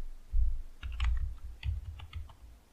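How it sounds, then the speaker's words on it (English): Short bursts of typing on a computer keyboard while entering a file name during coding, soft close key clicks in a few quick clusters separated by brief pauses, quiet and alone. "So here I'm going to type this image name."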